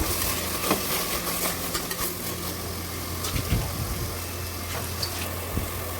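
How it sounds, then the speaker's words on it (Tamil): Ginger garlic paste frying and being stirred in a pan, a steady close sizzle with occasional scraping and soft knocks, no voices. "இப்போது இந்த இஞ்சி பூண்டு விழுது ஸ்மெல் போகிற வரைக்கும் நல்லா ஃப்ரை பண்ணிக்கலாம்"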